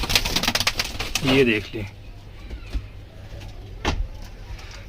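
Domestic flying pigeons coo in soft, throaty bursts, with someone talking over them for much of the time and a few scattered knocks and rustles nearby.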